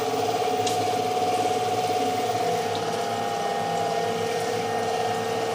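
A coolant pump runs steadily on a lathe with the spindle turning during a tool-cutting job, a constant watery hum and rush that stays level throughout with no talk.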